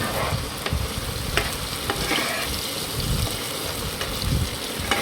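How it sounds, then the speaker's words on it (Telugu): Spice paste with turmeric, chilli and salt being stirred into a frying half-boiled egg curry, giving a steady close sizzle under scraping stir strokes and occasional soft taps, with no voices. "సో డైరెక్ట్ ఆ పేస్ట్ వేసేసుకొని కలుపుకుంటున్నా అంతే."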